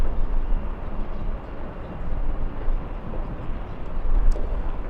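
Boeing 747 taxiing at Los Angeles International Airport toward the Tom Bradley terminal, producing a continuous low, rumbling jet roar at a moderate distance with no talk.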